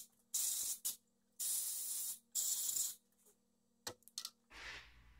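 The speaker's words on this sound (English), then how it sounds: "I sprayed the compressed air around the spark plugs." Compressed air blasts around the spark plugs of a Yamaha 1700 motorcycle in a garage: three loud, longer hissing bursts followed by several short puffs, close to the microphone.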